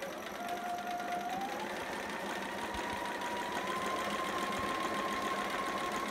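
Sewing machine stitching fabric and backstitching, a steady, close mechanical whir with fast rapid needle chatter that runs continuously for several seconds, with no talk.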